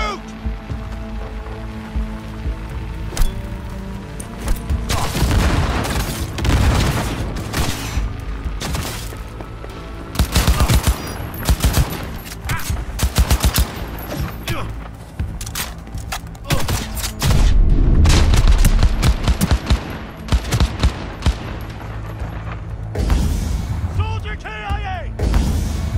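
Gunfire in the Cyberpunk 2077 video game: loud, dense bursts of rapid shots and booming impacts roll on almost without pause, with brief lulls between volleys.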